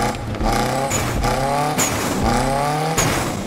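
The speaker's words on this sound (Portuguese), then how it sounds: "o ronco do Eclipse tá muito louco" A Mitsubishi Eclipse GSX engine roars in the racing video game Need for Speed Unbound, revving loud and close in repeated rising surges broken by quick gear shifts.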